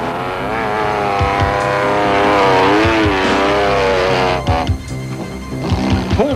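An off-road race car at the 1992 Baberspan 500 spins its wheels and claws out of deep mud, its engine revving loud and close in a long strained howl that wavers in pitch, then breaks into rougher bursts and thuds near the end.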